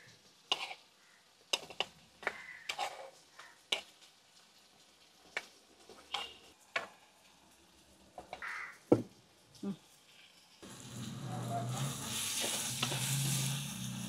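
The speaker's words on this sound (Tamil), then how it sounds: "தக்காளி பழம், உள்ளி, வெங்காயம், பச்சை மிளகாய் எல்லாம் நல்லா வதங்கிட்டு" Tomato, garlic, onion and green chili sautéing in oil in a pan, first with scattered clicks and scrapes of stirring, then a steady close sizzle of frying in the last few seconds.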